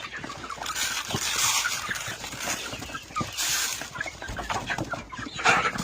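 Young chickens in a village yard cluck and chatter close by while pecking at feed on a cold late-autumn day, a busy overlapping flock sound with no talking.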